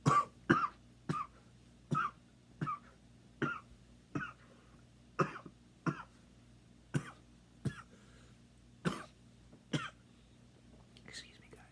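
A person coughs repeatedly after inhaling from a nicotine vape, a series of about a dozen sharp, close coughs spaced roughly a second apart in a quiet room, with faint whispered voice between them.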